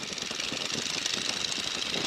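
A Boeing N2S-3 Stearman biplane's engine grows in power for a go-around, a loud, steady, rough drone that dominates throughout with no break.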